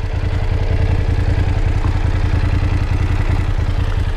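A BMW F750GS motorcycle idles up close, its exhaust giving a steady, loud, even low-pitched throb with a faint mechanical clatter, and no talk over it.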